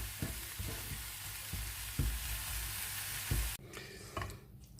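Spinach filling being stirred in a pan for spinach-stuffed meatloaf, with repeated scraping strokes and a soft sizzle over several seconds, then a brief quieter stretch of light clinks near the end.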